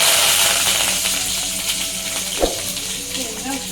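Mustard seeds and curry leaves sizzle in hot oil for a tomato thokku, a steady close frying hiss with a single sharp pop partway through.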